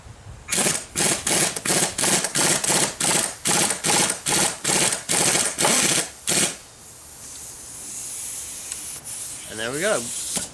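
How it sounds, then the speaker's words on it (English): Impact wrench hammering on the flywheel nut of a submerged outboard engine, about a dozen loud rhythmic close bursts over six seconds, then quieter handling noise and a short whine. "I'm just gonna hit it a couple of times with the impact wrench and it should pop right off"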